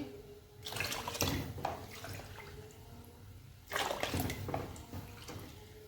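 Water pours into a tamarind and dried plum drink mixture in two bursts, a splashing rush that fades to a lower steady trickle between pours, fairly close and quiet with no talking.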